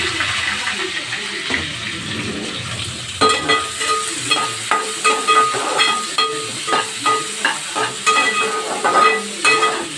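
Mustard seeds, pepper and greens crackle and sizzle in hot oil, with a steady frying hiss overlaid by a run of sharp popping bursts in the second half, close and fairly loud.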